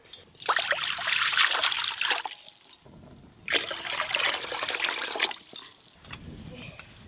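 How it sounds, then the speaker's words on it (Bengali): Water pours into a cooking pot for making rice in a home kitchen, with two long, splashy pours followed by a fainter trickle, heard up close. "পরিমাণ মতো জল দেব।"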